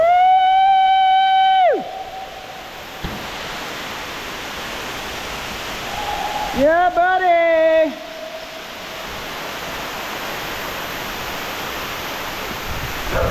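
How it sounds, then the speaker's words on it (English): A waterfall inside a cave roars as a steady, hissing wash of broadband noise throughout. Brief voices rise over it near the start and again partway through. "Look at that waterfall"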